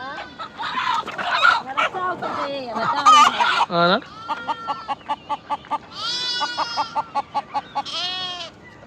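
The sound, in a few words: chickens clucking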